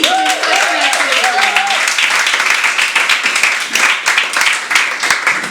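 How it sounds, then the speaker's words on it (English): A round of clapping from a small crowd at an English-language comedy club night in Valencia, dense and close, with someone speaking over the start before the applause carries on by itself. "a round of applause for Michael, please"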